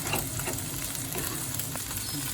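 Tomato paste sizzles and crackles softly in a pan for a pea and meatball stew, a faint, steady frying hiss with light stirring scrapes and no talking.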